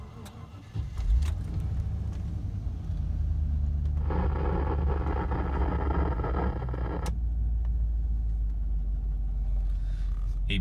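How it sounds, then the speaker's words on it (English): A 1994 Range Rover Classic engine cranks and catches after a jingle of keys, then settles into a steady low idle rumble, with a louder stretch of revving or blower noise before dropping back to idle. "94 Range Rover start and drive video."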